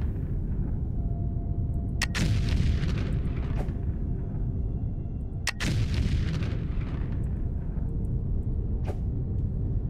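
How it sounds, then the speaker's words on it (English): Bombs explode in the video game Foundry, two heavy booming blasts a few seconds apart over a constant low rumble, with a fainter burst near the end. "Let's go down with the bombs."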